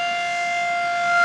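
A sugar mill's blackout siren (ghuggu) in Nawanshahr sounds alone as a steady, loud, unbroken tone.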